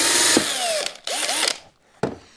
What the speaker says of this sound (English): I've just got to drill down to my little flag